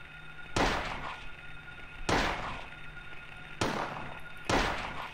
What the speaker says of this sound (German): dann schieße ich halt